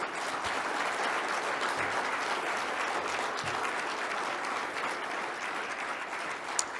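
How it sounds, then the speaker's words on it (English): A round of applause from the audience at a New York agriculture industry gathering, many hands clapping in a dense, steady roar that holds for several seconds, fairly distant with occasional sharper claps standing out. "Let's give another round of applause to Pat Hooker."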